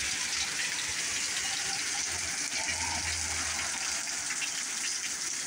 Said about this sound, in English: it is going through periods of absolutely pouring. As you can probably hear in the background